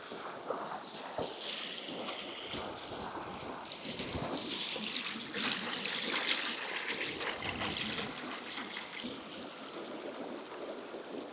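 Water from a stream in the Upper Derwent Valley, Peak District, runs and trickles into a bottle as two litres are gathered, a steady close rushing and gurgling with a brief louder burst partway through, no voices.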